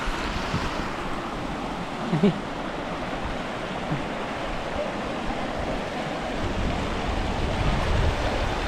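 A steady rush of a flowing river fills the air, broad and constant, mixed with some wind noise, with a faint brief voice in the background.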